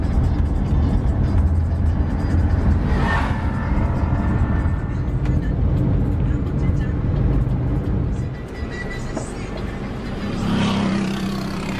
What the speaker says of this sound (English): it's the first time I've ever driven a car in the Dominican Republic